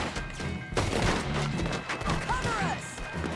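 Gunfire from dual guns in Red Dead Redemption 2, a dense cluster of sharp shots and impacts mixed with game effects and a rising whine, fairly quiet and cluttered.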